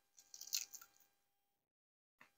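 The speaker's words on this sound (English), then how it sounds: "I want you to hear the crunch." Crisp, close bites into Chinese fried chicken from a Los Angeles Chinatown restaurant: a quick cluster of crunchy crackles, then silence and one last small crunch.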